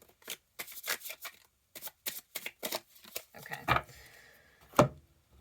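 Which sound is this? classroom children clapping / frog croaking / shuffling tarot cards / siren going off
shuffling tarot cards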